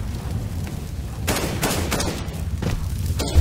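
Gunfire from a gun in Counter-Strike on the Dust 2 map, several sharp shots in quick bursts, close and fairly loud, with no talk over them.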